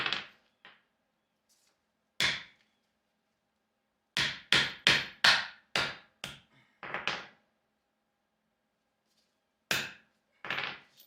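Sharp metallic hammer blows knocking suspension bushings out for a Toyota Corolla lift kit: scattered single strikes, then a rapid cluster of five or six close hits, with more spaced blows after.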